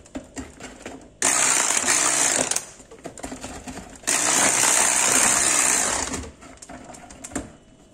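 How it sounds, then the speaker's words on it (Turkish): An electric mixer on its low setting whisks turmeric cake batter in two loud bursts of steady, even whirring, separated by a short pause, with quieter kitchen handling sounds before, between and after them. "Mikserinizin düşük ayarında çırpıyoruz."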